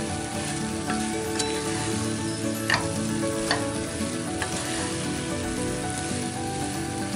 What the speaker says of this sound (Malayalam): ഇനി ഇത് നന്നായിട്ട് നമുക്ക് മിക്സ് ചെയ്ത് കൊടുക്കാം